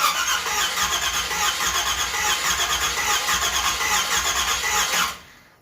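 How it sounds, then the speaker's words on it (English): The engine of a 1977 Chevy Camaro cranks over during a compression test with the carburetor plates fully open. The starter whirs steadily and rhythmically at close range with a squealing edge, then cuts off after about five seconds. "you just crank it over until this needle stops moving"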